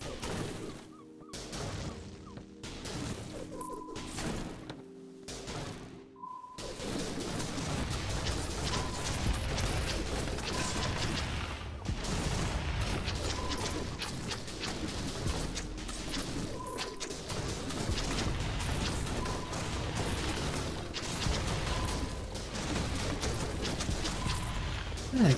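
Explosions from barrels dropped by a boat in a video game, a series of muffled booms and crashes repeating over a steady mechanical game background with occasional tones.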